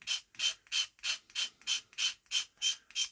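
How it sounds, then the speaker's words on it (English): Black paint being scraped onto a diecast model car to give it a burned-out look: about nine steady, evenly spaced rasping strokes, close and fairly loud, with no talk. "just scrape it like that"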